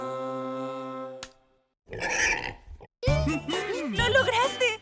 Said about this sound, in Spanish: Es el sonido que hace un cerdo.